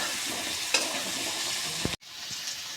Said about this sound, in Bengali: আলুটাকে সুন্দরভাবে নেড়ে চেড়ে লাল লাল করে ভেজে নেব।